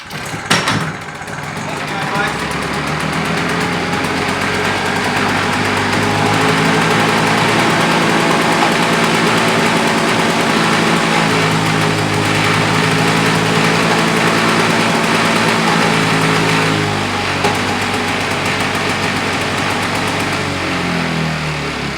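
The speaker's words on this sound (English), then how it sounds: "We've got a runner of a two-stroke engine" A small two-stroke Victa lawnmower engine sputters to life after a pull, then holds a loud, steady, buzzy running drone close by.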